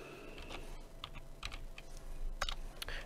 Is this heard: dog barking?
no